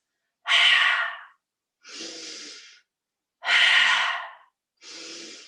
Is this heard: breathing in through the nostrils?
yes